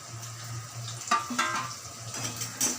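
Chopped onion frying in hot oil for a Bengali kalmi shak dal, a low steady sizzle with a few clinks of a spoon stirring against the pan.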